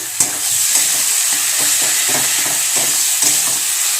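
Tomatoes frying in a pan, pressed down with a spatula, giving a loud, continuous close sizzle with soft rhythmic scraping pushes throughout.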